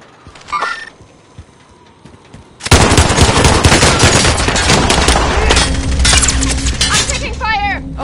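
Sustained rapid gunfire from a World War II–style shooter video game, a loud dense barrage erupting after a quieter opening and continuing for several seconds, with clinking and shattering bits mixed in and a voice briefly heard.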